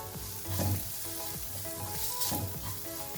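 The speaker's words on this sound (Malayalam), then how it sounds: "നമുക്കിത് എണ്ണ തെളിയുന്ന വരെ ഒന്ന് വഴറ്റിയെടുക്കാം." Chili, coriander, masala and cumin powders with kasuri methi sautéing in hot oil for palak egg curry, a continuous close sizzle broken by a few rhythmic stirring scrapes, no speech.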